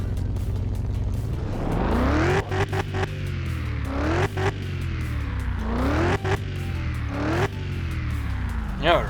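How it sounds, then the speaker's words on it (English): A car engine fires up and revs in Car Mechanic Simulator 2021, climbing in several repeated rising sweeps with brief dips between, loud and close over a steady low rumble. "we can start the car as well."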